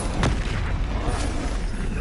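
A Bombarda explosion spell in the video game Hogwarts Legacy goes off as a sharp burst early on, then a heavy booming rumble that holds for about two seconds with a second lighter hit midway.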